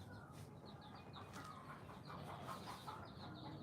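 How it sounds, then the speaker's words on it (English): Roosters and hens outdoors, with short clucking and crowing-like calls repeating across the whole stretch over steady background noise, moderately distant and fairly faint. "If I have to leave because of these roosters"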